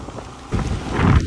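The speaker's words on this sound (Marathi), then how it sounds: "हे रोड बघा कसला पाऊस चाललाय." Heavy monsoon rain pours onto a road, a dense close hiss of rainfall with heavier splashing surges.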